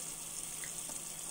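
Water runs from a bathroom tap during face washing, a steady, quiet hiss with nearby splashing and no talking.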